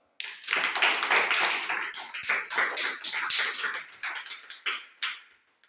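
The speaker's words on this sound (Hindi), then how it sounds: "समस्त ताली मारो" A group of people clapping hands together in a room, a dense burst of many overlapping claps that starts abruptly, rolls on for several seconds, then thins into scattered last claps before stopping.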